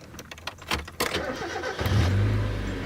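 A high-mileage Mazda Miata with 155,000 miles cranks with a few rattling starter churns, then catches and settles into a steady, close engine idle, with no talking.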